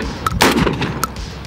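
A 12 gauge shotgun fitted with a 20-round drum magazine, fired at clay targets outdoors: a short sharp blast with a burst of echo, close by, plus lighter clicks of the action cycling.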